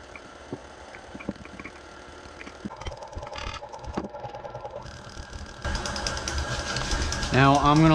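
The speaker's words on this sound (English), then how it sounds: "we're gonna get the mixer started" A stand mixer fitted with a dough hook works cinnamon roll dough as flour goes in, a steady motor hum that grows louder near the end, with a voice talking over it.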